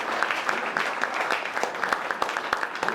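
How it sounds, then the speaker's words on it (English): An audience at a talk inside a mosque breaks into steady, dense applause, many hands clapping at once in a continuous patter. "we clap for that"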